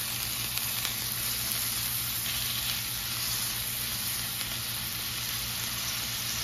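Smash burger patties seasoned with taco seasoning sizzle loudly and steadily in a cast iron skillet, a dense, continuous frying hiss close by.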